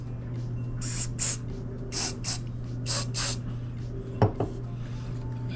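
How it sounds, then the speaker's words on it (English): Short hissing bursts of activator sprayed from an aerosol can while rehabbing a wind chime, about six quick puffs in a row over a steady low hum, followed by a couple of light knocks. "we'll spray a little bit of activator on each one"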